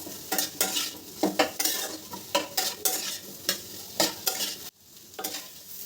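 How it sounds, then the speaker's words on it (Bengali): Vegetables (potato, pumpkin and pointed gourd) are stir-fried with spices and ground cumin in a pan. Rhythmic spatula strokes scrape and toss about twice a second over a sizzling fry, then break off briefly near the end before resuming. "এবার মশলার সাথে সবজিগুলো ভালো করে কষাবো।"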